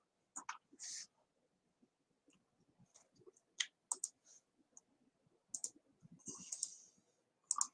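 Soft, scattered computer mouse clicks, mostly single with a few quick doubles, close to the microphone and faint against a quiet room, with a brief murmur of voice.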